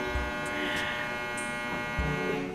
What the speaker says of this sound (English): sorry you guys, that's the dryer.